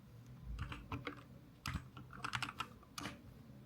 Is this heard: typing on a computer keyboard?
yes